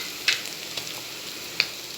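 Mackerel fish fries in a pan with crushed dried chilli and onion, giving a soft, steady sizzle with a couple of sharp crackles and pops standing out.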